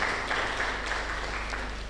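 Audience applause at an indoor conference on artificial intelligence in healthcare, a steady wash of many hands clapping throughout, moderately loud and even with no voices standing out.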